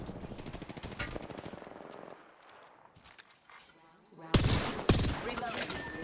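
Video game gunfire rattles in rapid automatic bursts, pauses briefly, then returns as louder, closer volleys with sharp single cracks mixed in.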